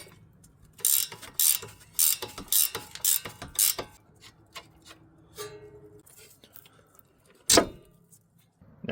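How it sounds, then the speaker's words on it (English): A 17 mm ratchet wrench loosens the sway bar link nut on a Toyota Camry front suspension, giving rapid bursts of close ratcheting clicks over several strokes, then a quiet stretch and one sharp knock. "If you have a 17 millimeter ratchet wrench, that would be perfect."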